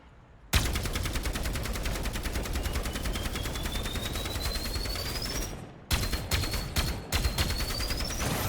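Rapid automatic gunfire from an Overwatch 2 hero's primary weapon rattles in a long continuous burst. After a brief gap, several shorter bursts follow, loud and close, with a rising whine behind the shots.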